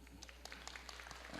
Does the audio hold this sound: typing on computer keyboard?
no